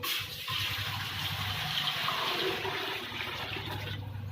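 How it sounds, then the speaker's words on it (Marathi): Water gushes steadily and loudly into a vessel for several seconds, a continuous rushing pour close by. "आता पातीला भर पाणी टाकू"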